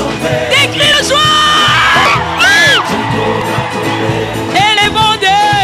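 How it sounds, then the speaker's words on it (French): A church congregation at a praise service shouts and whoops with joy, loud rising cries and cheers from many voices packed densely together with music underneath throughout. "Des cris de joie."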